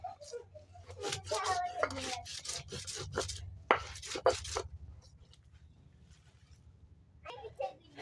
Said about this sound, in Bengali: এবার আমি পাতাগুলো বেটে নেব।